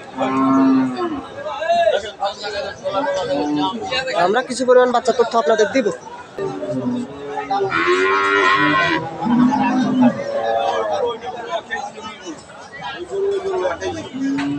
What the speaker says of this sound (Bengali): তবে এখনই যে পরিমাণ গরু আসছে একবারে ভরপুর বলা চলে